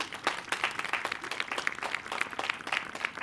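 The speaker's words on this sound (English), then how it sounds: "Pause for applause." Applause at a college graduation ceremony, a continuous patter of many hands clapping with a fairly even rhythm, moderately distant and somewhat quiet.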